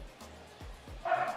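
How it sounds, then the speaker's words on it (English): Dogs playing downstairs, a 10-year-old dog and a young one under a year old, giving a few soft, distant woofs and yips in a quiet room. "The dogs are playing."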